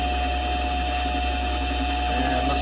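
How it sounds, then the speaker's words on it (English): A mini lathe runs at slow speed, giving a steady, even motor hum and whir with a faint high whine, alone and unchanging throughout. "I'm going to turn the lathe on,"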